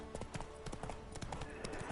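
Hooves of Roach the horse in The Witcher trotting steadily, a regular run of crisp clip-clops repeating about every quarter second, close and moderately quiet, with no talking.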